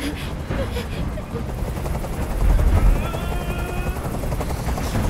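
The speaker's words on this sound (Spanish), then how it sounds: "¡No aguanto ese ruido! ¡Dile a ese helicóptero que se vaya de aquí!" Helicopter rotor noise from Detroit: Become Human, a steady loud thrumming chop that fills the scene with no pauses, with faint rising tones and brief bursts over it.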